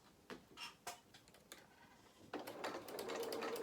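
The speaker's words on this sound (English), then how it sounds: "So sew that seam allowance down. Just go to where that pin is." Sewing machine stitching a seam allowance down on a Luna Lapin Bramble Bear toy, a few short separate stitch bursts and then a longer continuous run, quiet and close.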